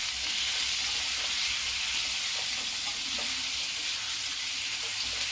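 Black chickpea curry with onion frying in a pan over a medium flame, a steady dense sizzle filling the whole stretch with faint stirring scrapes, loud and continuous with no talking.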